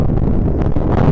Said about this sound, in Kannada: ಗಾಳಿ ಸಖತ್ ಗಾಳಿ ಇದೆ